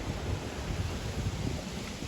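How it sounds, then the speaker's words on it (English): Wake waves from a Brisbane River tour boat wash against a rocking river jetty as a continuous rushing surge, close and fairly loud, with wind buffeting the microphone. "Hey guys, the waves are already here."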